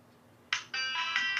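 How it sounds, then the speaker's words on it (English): A phone ringtone bursts in, a bright electronic melodic tone with short repeating pulses, loud and alone after a near-silent start. "Ringtone."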